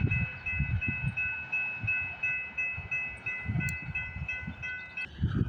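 An eastbound CPKC freight train rolls down the line near Milton, Ontario, sounding a steady multi-tone horn for about five seconds over a low, rhythmic rumble and clatter of wheels on track, heard from a middle distance.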